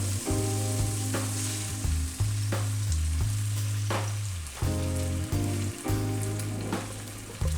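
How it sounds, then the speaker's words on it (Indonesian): Eggs scrambled and fried in a pan with tofu, a steady loud sizzle with scraping stir strokes breaking through at intervals. "Ya, telurnya ini langsung di scramble, langsung di orak-arik."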